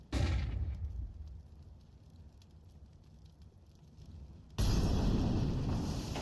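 A grenade detonates in a Counter-Strike match, an abrupt loud blast at the start that decays into a crackling tail, then a second sharp loud burst near the end.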